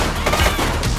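Gunfire in the police video game The Precinct, a dense, loud burst of overlapping shots packed into a single second with no pauses.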